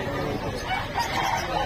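A rooster crows briefly nearby at the Bocaue pet market in the Philippines, a rising, strained call over a busy background.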